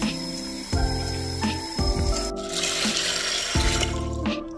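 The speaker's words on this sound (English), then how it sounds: "Add 1 3/4 cup of water." Water is poured from a cup onto dry macaroni noodles in a large microwave-safe container, a steady splashing pour with faint clinks, close and alone with no talk.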